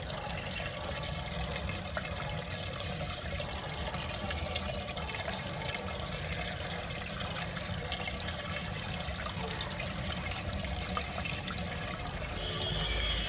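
Muddy water pours out of a water filter running in backwash mode. The rushing, splashing flow holds steady and fairly faint throughout.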